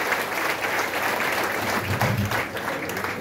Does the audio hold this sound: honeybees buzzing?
no